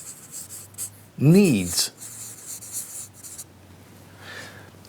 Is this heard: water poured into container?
no